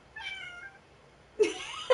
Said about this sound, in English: And then our cat meows.